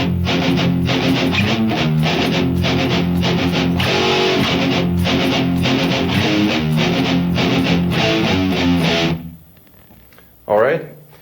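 An electric guitar with heavy distortion plays a riff slowly, in a steady chugging rhythm of palm-muted and ringing notes, loud and close. It stops, a brief pick scrape follows, and no one talks.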